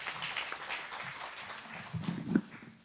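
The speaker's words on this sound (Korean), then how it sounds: "큰 박수로 맞이해 주시기 바랍니다." Faint, distant applause from an audience at the 2025 Korea University education innovation forum, welcoming the opening speaker; scattered clapping in a large hall, quiet and diffuse throughout.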